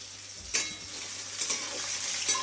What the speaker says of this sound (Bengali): এবার আঁচটাকে জোরে দিয়ে ভালো করে একটু লাল লাল করে ভাজো পেঁয়াজগুলোকে